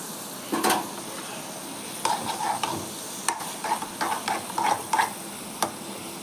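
Eggs being stirred into pan-fried green beans, a quiet steady sizzle under scattered short scraping clinks of a spoon against the pan, close and alone with no talk.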